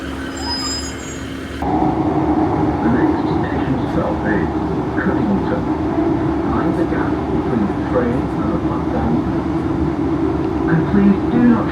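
A train at a station on the Mid Cheshire Line, its loud, steady low rumble starting abruptly and holding close for the rest of the clip.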